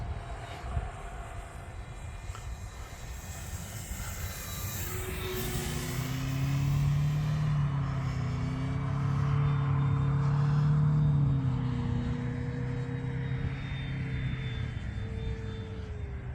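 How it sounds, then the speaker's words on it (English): A small FMS P-47 Razorback model airplane engine whines in the distance, its buzzing pitch rising and falling as it passes overhead against steady outdoor rumble. "I'm very happy with this airplane. It's a lot of fun to fly."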